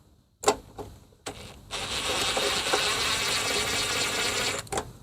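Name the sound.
ratchet removing lawnmower carburetor bolts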